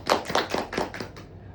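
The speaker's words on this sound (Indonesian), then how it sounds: "mari kita berikan tepuk tangan." A small group clapping hands to welcome a newcomer at an indoor gathering, with about six quick, uneven claps over a second and a half, close and fairly loud with no talking.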